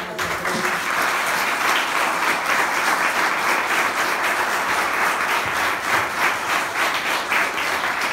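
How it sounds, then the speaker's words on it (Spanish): A crowd claps and applauds steadily, a dense, sustained wash of hands that holds for several seconds. "Yo quisiera pedirles a todos ustedes un fuerte aplauso para la persona."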